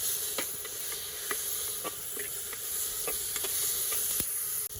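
Ingredients sauté in a pan with salt added, giving a steady low sizzle and hiss broken by scattered clicks and scrapes of stirring, close and fairly quiet with no talking.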